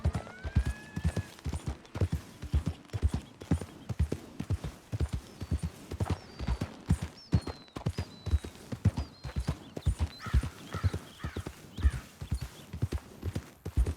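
Steady clip-clop of horse hooves on the ground in Red Dead Redemption 2, a rhythmic trot of repeated beats throughout, with faint whinny-like tones and a brief voice early on.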